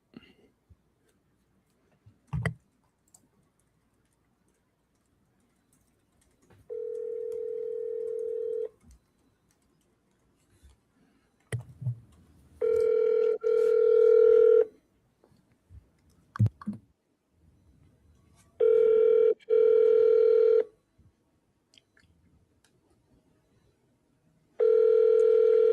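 Ringback tones from a telephone call to a property seller: several steady repeating tone bursts of a few seconds each, separated by pauses, with a few faint clicks and no talking over them.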